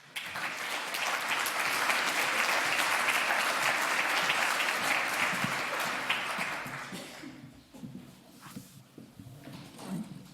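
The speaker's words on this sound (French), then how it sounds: "Merci de l'applaudir." An audience at a conference opening greets the institute's president with warm, dense clapping that holds steady, then dies away after about seven seconds into quiet room noise and small shuffling sounds.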